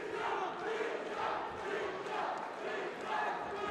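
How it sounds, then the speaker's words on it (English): An arena crowd at a bantamweight MMA bout chants "Misha" for fighter Mihai Bobatrin. The loud rhythmic voices swell and repeat in waves and fill the venue. "the crowd rings out with a chant of Misha for Mihai Bobatrin"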